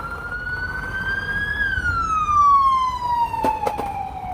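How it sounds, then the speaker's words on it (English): A single ambulance siren wails at a street rally and march in Los Angeles, rising then slowly falling in pitch, fairly loud and somewhat distant, with a couple of brief knocks near the end. "I don't know if that's an ambulance or what"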